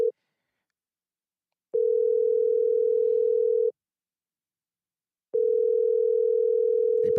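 A phone line rings out while a call-in show dials a listener: three steady single-pitch tone bursts, each about two seconds long, separated by silent gaps of similar length, clear and close with no talk over them.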